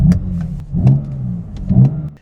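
A 450 hp BMW M car engine revs and accelerates in repeated surges, loud and close, with no talking.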